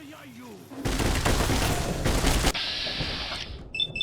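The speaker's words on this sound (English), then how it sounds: "that's just a shotgun" Shotgun blasts in a video game, a dense loud burst of roughly two seconds followed by quieter clattering effects, with a voice talking near the start.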